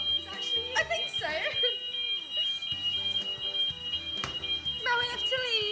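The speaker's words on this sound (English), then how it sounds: "Guys, I set off a fire alarm." A home fire alarm sounds a continuous high, shrill electronic tone throughout, with people talking over it nearby.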